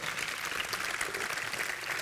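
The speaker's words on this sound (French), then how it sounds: "On peut les applaudir chaleureusement" Warm applause from the audience at a SYNERPA congress session in Lyon, a brief, steady wash of many hands clapping at moderate distance with no speech over it.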